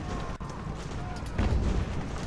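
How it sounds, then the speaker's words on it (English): A heavy booming cannon shot sounds amid dense battle noise in Ultimate Admiral: Age of Sail, with a thud near the middle and continuous rumbling underneath. "Turn the cannon around and shoot him."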